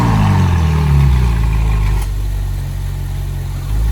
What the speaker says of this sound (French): la 458 Spider est déjà sur le départ